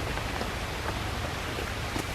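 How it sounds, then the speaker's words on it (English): Steady rain falling during a storm outdoors on a bikepacking trip near Richmond Park, a continuous dense hiss of drops with faint scattered patters and no voices. "The rain is here."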